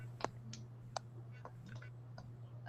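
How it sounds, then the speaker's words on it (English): Sharp, irregular clicks snap out one after another, about ten over a few seconds, fairly close and distinct, over a constant low electrical hum in an indoor room. "what's that clicking sound?"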